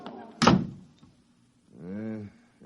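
An office door closes with a single sharp, loud slam and thunk in a radio drama, followed after a pause by a voice.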